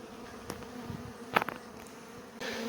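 Honey bees buzz around a hive being relocated, a steady, fairly quiet hum with one closer, louder bee passing briefly.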